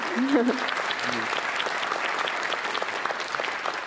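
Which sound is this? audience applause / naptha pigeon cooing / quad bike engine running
audience applause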